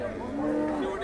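A large cow at a cattle market lets out a single sustained, tonal moo lasting about a second, close and fairly loud.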